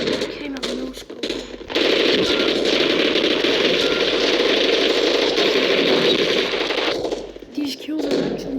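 Rapid gunfire sounds in a video game, where an M40A1 sniper rifle is used, as a dense, loud, continuous burst for about five seconds, with brief talk and quieter moments before and after.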